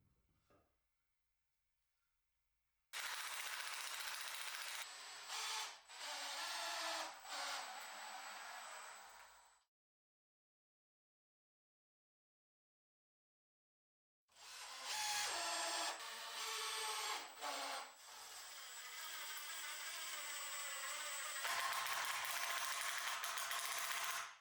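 Wooden furniture pieces are glued and screwed together during assembly, with two long bursts of bright power-driver whirring separated by a silent gap, close and fairly quiet.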